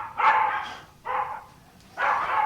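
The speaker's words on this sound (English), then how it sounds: "That's the neighbor's dogs. They just bark, bark, bark." Dogs next door bark in three separate bursts, each a cluster of loud, close yips and barks with short quiet gaps between them.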